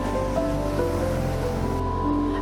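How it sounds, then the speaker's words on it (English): Ocean waves on Hawaii's North Shore form a constant low roar and wash, steady and fairly close throughout, with a faint humming undertone and no voices. "Especially at North Shore there are big waves"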